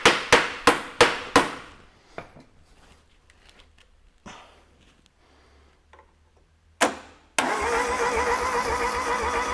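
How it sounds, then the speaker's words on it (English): Five quick starter-motor cranks in a row on an air-cooled VW Beetle 1500 engine not started in 50 years, then scattered clicks and quiet, another short crank, and finally the engine humming steadily. "Starter motor rejuvenating again."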